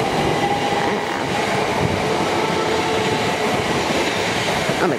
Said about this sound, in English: Oh my goodness, that is one long train.